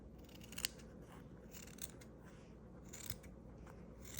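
Scissors snip through a paper template for a sea turtle shell support, one sharp close cut standing out early among quieter, rough cutting sounds.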